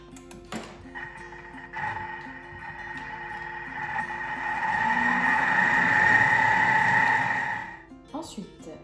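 A Thermomix whirs steadily while blending flour into choux pastry dough, a sustained mechanical hum that swells in the middle and cuts off after about seven seconds, with faint handling clatter at the start and end.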